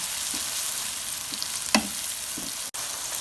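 Half a kilo of minced meat sizzles in a pan with fried garlic and ginger paste, a steady close hiss with a few soft stirring scrapes and one sharp knock.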